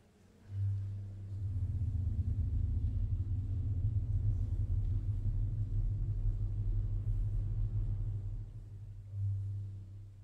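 A thunder sheet from a hardware store, shaken inside a baroque church to imitate thunder, gives a sustained low rumble that swells quickly, holds steady for several seconds and fades, heard alone without talk.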